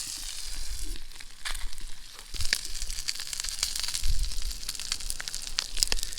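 A trout fillet from a creekside catch sizzles and crackles as it fries in butter outdoors, a steady close hiss with scattered pops throughout.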